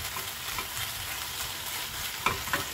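Shredded dried pollock is tossed in a pan of red pepper paste sauce with a little syrup, giving a steady close sizzle with soft scraping from stirring and a couple of brief utensil clicks near the end.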